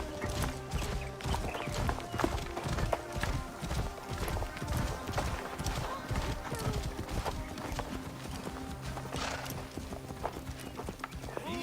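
Horse hooves clip-clop steadily in the video game Assassin's Creed Origins as a mount is ridden, with an occasional whinny, set under game music and voices talking throughout.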